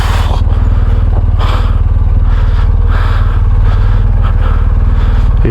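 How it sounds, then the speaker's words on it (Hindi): A motorcycle pulling hard in first gear while heavily loaded, its engine a loud, close, steady low throb with rhythmic pulsing and rattling clatter throughout. "बाइक का फर्स्ट गियर में इतना स्ट्रेंथ है ना"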